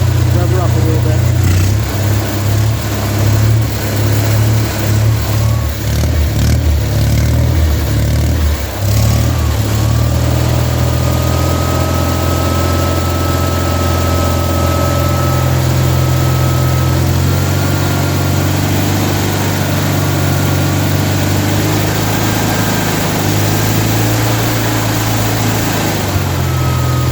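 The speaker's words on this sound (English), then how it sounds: "Rev her up a little bit." An RV engine runs loud and close, with a low steady drone and a few rises as it is revved before it settles back to idle, while someone talks over it throughout.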